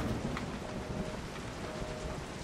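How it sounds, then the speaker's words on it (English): Steady rain in the Resident Evil 7 video game, a quiet, even hiss of falling water with a low rumble underneath and no voices. "It's raining now."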